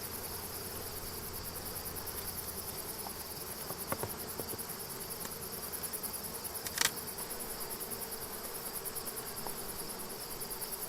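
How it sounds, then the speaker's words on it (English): Honey bees hum around an open hive, a faint continuous high buzz with a few brief clicks and knocks from handling the hive, no talking. "I don't want to squish bees."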